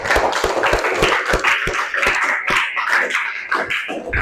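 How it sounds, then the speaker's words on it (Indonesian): A classroom group of students clapping after a presentation, steady dense hand claps continuing throughout at close range with no talk over them. "tepuk tangan"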